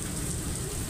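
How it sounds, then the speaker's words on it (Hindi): Heavy rain falls just outside a doorway, a dense, close, continuous hiss of drops striking the ground. "बारिश अंदर तक आ रही है,"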